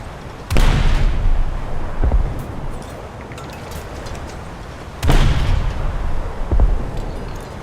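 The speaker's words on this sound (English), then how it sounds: "Open fire. Fire again." Heavy naval guns fire in War Thunder, two big booming salvos about four seconds apart, each a sharp loud blast followed by a short rumble and a softer secondary thump, over steady low ambient noise.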